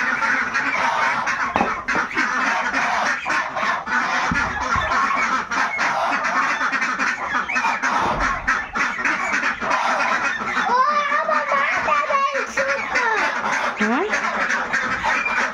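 A flock of domestic geese honks loudly and continuously up close as they are let out, overlapping calls with ducks and other fowl mixed in, while a person talks over the noise.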